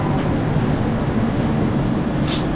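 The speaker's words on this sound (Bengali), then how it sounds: "ট্রেন এসে পৌঁছেছে তার যাত্রাপথের 3 নম্বর স্টেশন ভদ্রক।" The Falaknuma Superfast Express rolls into Bhadrak station as a continuous loud, low rumble with steady broadband noise and no voices.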